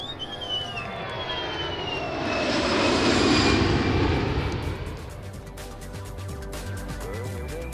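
An Airbus passenger airliner makes a low-altitude display pass at an airfield, its engines roaring as it approaches, peaking loudly overhead, then fading into a sustained whine as it moves away.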